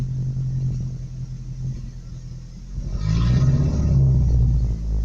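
Low, steady rumble of a truck engine that won't start and may be out of gas, with a rougher surge of cranking or engine noise rising in the last two seconds, loud and close.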